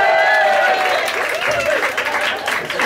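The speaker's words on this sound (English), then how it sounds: "You can have an applause." Audience clapping after a university lecture, a steady, fairly loud wash of applause with crowd murmur and voices mixed through it.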